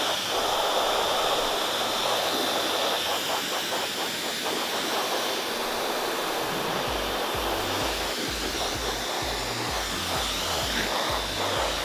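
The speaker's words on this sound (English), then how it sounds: "For this I have full fan speed on my hairdryer." A hairdryer runs at full fan speed, drying tint spray on a car tail-light, giving a steady, loud, broadband whooshing hiss that holds continuously throughout with slight shifts in tone.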